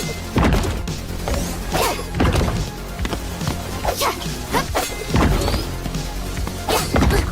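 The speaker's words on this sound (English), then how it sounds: "one of my favorite sound effects is the booming sound whenever you vanish towards where you throw your sword at" Deep booming thuds from the video game Aeondrive as the character vanishes toward a thrown sword, several heavy low impacts recurring through a busy game mix with other hits and effects.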